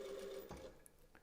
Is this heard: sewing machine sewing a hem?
yes